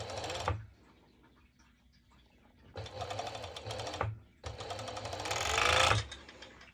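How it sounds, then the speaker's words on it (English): A serger sewing machine stitches a fabric seam on a pair of bottoms in three close, loud bursts of rapid mechanical whirring, with quiet pauses in between. "I will just directly serge it."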